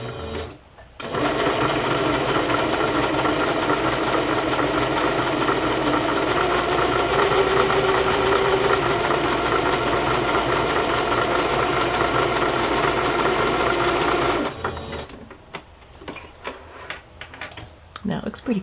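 A sewing machine runs a decorative stitch on card with a steady, close, rapid mechanical ticking hum for about fourteen seconds, then stops, leaving a few faint clicks and handling noises.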